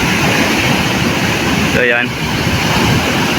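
Big sea waves and a strong current surging against rocks, a continuous loud roar of rushing water and wind buffeting the microphone, with someone speaking briefly over it.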